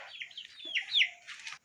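An aseel chicken in a small home garden gives a brief run of clucking calls, a short rising and falling squawk near the middle, fairly close but quiet.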